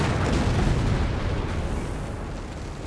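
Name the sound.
anti-tank gun exploding in Company of Heroes 3 video game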